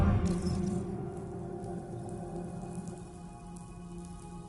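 Steady rain falls in the video game Death Stranding 2, an even hiss of drops on surfaces with a low ambient drone beneath, continuous and moderately loud.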